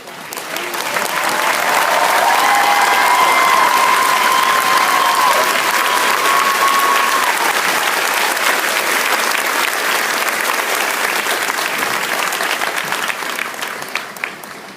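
A large audience at an Army graduation ceremony gives a long round of applause for veterans, swelling in quickly and holding dense and steady before fading out, with a faint whistle early on.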